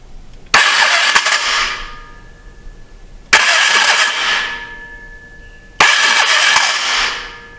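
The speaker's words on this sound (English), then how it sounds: "That starter sounds horrible." A Polaris 325 ATV's starter motor cranks three times in short, harsh, whirring bursts, each starting abruptly and fading, loud and close, rough and grinding in tone with no engine catching.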